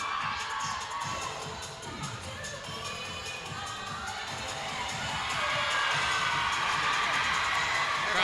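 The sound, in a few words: crowd cheering at a cheerleading championship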